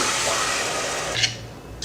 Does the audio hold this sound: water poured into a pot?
yes